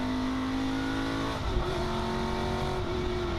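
Race car at Magny-Cours accelerating flat out down the pit straight, a close, loud engine whine climbing in pitch, dropping sharply at a gear change around the middle and then rising again.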